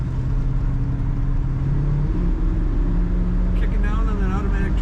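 A 1966 Ford Mustang convertible with automatic transmission rumbling steadily while driving, a deep continuous low engine drone heard from inside the car with someone talking over it.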